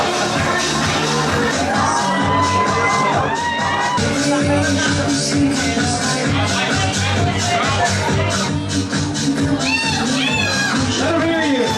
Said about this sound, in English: give a big round of applause! Let them hear you!